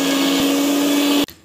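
A loud, steady motorized whir of a kitchen mixer grinder grinding a paste runs at full speed, then cuts off abruptly near the end.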